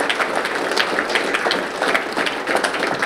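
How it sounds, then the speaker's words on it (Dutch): Audience applause marking a historic moment as parties sign a cooperation agreement at a political event, with dense, sustained clapping from a crowd filling the whole stretch at steady loudness. "Dames en heren, mag ik een hartelijk applaus voor dit historisch"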